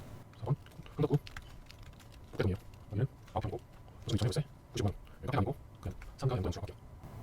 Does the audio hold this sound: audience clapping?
no